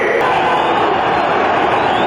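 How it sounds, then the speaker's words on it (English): Football crowd at a USFL game between the Chicago Blitz and Washington Federals cheering for the Federals cheerleaders, a loud, steady stadium roar sustained throughout with no breaks. "Crowd cheers for the Federals cheerleaders who are circling the field"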